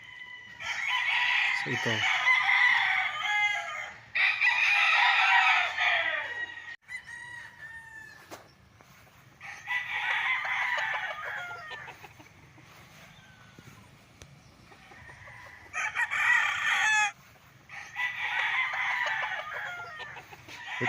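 Gamefowl roosters at a game farm with a small cockpit crow repeatedly in long, loud bursts, several calls overlapping from nearby birds, with clucking and someone talking quietly between crows.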